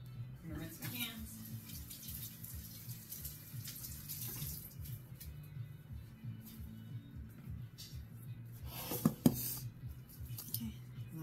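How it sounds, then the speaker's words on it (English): A tap runs steadily in a sink while hands are rinsed beneath it, a soft continuous splash close by with a few sharper clinks and splashes near the end. "I'm gonna rinse my hands."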